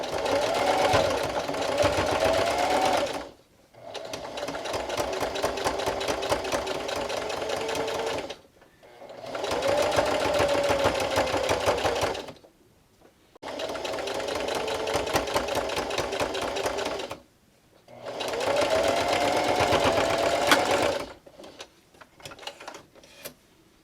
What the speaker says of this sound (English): then just slowly and carefully top stitch all the way around